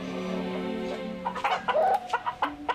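Fighting roosters kept as gamecocks cluck in a few short, separate bursts following a steady low hum, fairly close and clear.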